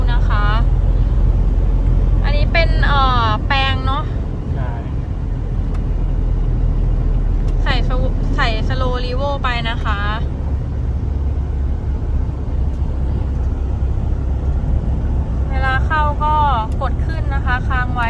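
A Toyota Commuter van with a 3.0-litre 1KD diesel, automatic, converted from two-wheel to part-time four-wheel drive, rumbles with a low steady cabin drone during a test drive while people talk over it.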